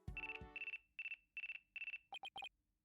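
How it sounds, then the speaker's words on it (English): A phone ringing in the video game Apollo Justice: a series of electronic trilling bursts in a steady pattern, followed by quicker, shorter chirps, with no one speaking. "Looks like I have a phone call."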